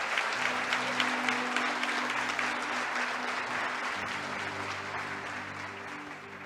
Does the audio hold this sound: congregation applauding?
yes